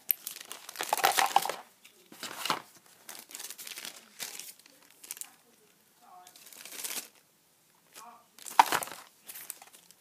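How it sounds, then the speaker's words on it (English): Plastic wallets crinkle and rustle in separate close bursts as items are slipped inside for a back-to-school haul, with quiet pauses between them and faint speech in places. "So I'm just going to keep everything in these plastic wallets, just so they don't get scratched,"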